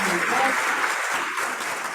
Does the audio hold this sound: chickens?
no